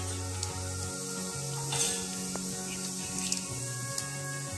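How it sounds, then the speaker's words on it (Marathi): Mustard and cumin seeds, with turmeric and asafoetida, crackle and sizzle in hot oil as a Maharashtrian tempering, a steady close frying hiss with scattered sharp pops under faint kitchen clatter. "तेल थोडं गरम झाल्यानंतर आपण जिरे, मोहरी, हळद आणि हिंगची फोडणी देणार आहोत।"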